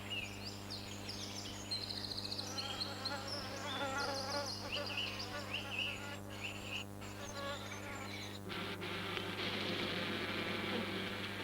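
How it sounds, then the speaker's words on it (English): A steady, close honeybee buzz drones continuously at a salvia flower, with a low hum underneath and soft high chirps scattered in the background. "the bee probes for nectar inside this salvia flower"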